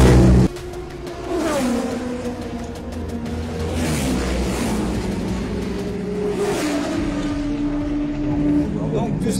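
A race motorcycle pulls out of the pit box during the Bol d'Or Classic endurance race, its engine revving up through rising gear changes and staying loud and close, with people talking over it.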